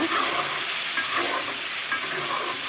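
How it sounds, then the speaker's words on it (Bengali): Spice paste of turmeric, chili powder, ginger and cumin sizzles in oil with melted tomato, a dense continuous frying hiss with soft stirring close to the pan, no voices. "এখন এটা ভালো করে কষিয়ে নিব"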